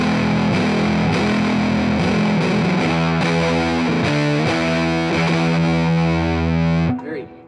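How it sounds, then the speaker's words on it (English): An electric guitar through a Sibriex distortion pedal set to silicon diode clipping plays sustained, heavily distorted chords with bright, buzzy harmonics, loud and alone before cutting off abruptly near the end. "trio of silicon diodes, which is your classic distortion sound"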